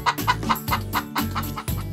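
A farmyard hen clucks in a quick run of short, close, repeated calls, about eight in two seconds, with no talking.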